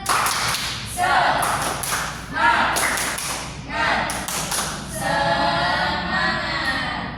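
Classroom pupils performing tepuk semangat, bursts of rhythmic group clapping in patterned sequences, with children's voices chanting and talking over it.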